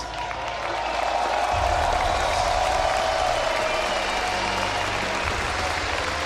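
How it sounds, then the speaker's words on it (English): Crowd in an esports arena at the IEM Katowice 2016 League of Legends World Championship grand final cheering and applauding the winning team, a steady loud wall of clapping and cheers that swells after the opening second. "the crowd here in Katowice cheered the winners regardless of where they were from"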